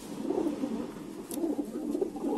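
Soft, low pigeon cooing repeating in gentle rolling phrases against a quiet background hiss.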